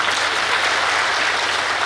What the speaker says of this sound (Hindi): इसलिए मौसम के लिए भी जोरदार थैंक्स की ताली बजा दो बेटा।